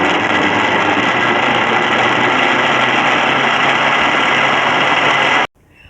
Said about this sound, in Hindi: और ग्राइंड कर लेती हूँ।